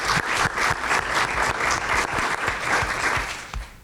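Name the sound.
applause at school committee meeting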